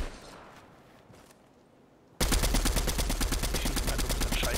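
Gunfire in the Fortnite Chapter 3 video game: after a quiet stretch, a loud rapid burst of automatic shots hammers on continuously and evenly for the remaining seconds.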